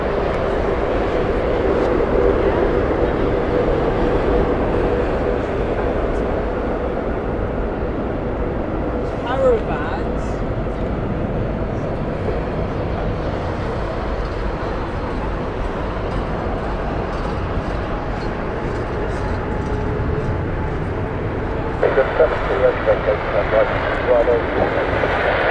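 An airliner lands at Heathrow Airport, its engines giving a steady, loud broadband roar that carries throughout, with a voice talking over it.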